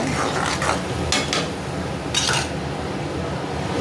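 A spoon stirring and scraping ground kootu paste in a metal pan for a home-cooked thattapayaru puli kuzhambu, with repeated scraping strokes and clinks in short bursts, close and fairly loud, with no talking.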